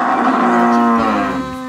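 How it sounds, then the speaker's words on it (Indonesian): A deep, drawn-out moo from a large bovine, steady and loud, close by, trailing off at the end with no voices present. "kerbau, buffalo."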